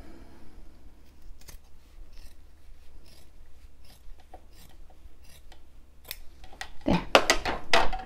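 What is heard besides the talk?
scissors snipping power net fabric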